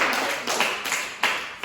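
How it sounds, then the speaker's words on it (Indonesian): A small classroom group claps briefly, a few scattered bursts of hand claps at moderate distance with no talk over them. "Tepuk tangan untuk yang tidak benar"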